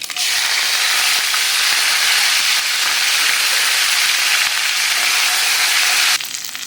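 Mustard seeds, cumin and curry leaves sizzle in hot oil for a Chettinad spicy chutney, giving a loud, steady, close hiss that runs almost unbroken before dropping slightly at the end, with no talking.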